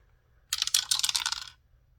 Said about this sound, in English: we're going to roll a 4-sided dice if I have mine to see what we get